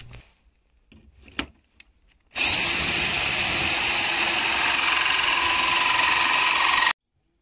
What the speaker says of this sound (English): Use the countersink bit to countersink the screw heads.